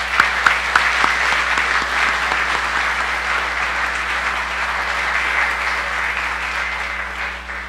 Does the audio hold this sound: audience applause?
yes